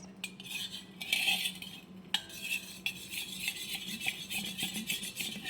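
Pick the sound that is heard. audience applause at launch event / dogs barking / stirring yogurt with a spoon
stirring yogurt with a spoon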